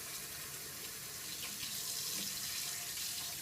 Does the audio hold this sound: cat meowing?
no